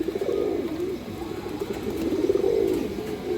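Pet colored pigeons coo nearby, soft, low, rolling calls rising and falling continuously over faint background noise, with no talking.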